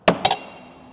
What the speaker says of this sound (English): Hammer, special tool, the hammer, and let's go up and hit the bracket.